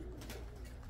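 Pigeons cooing, a soft low call heard briefly and faintly among outdoor background noise, with no talk.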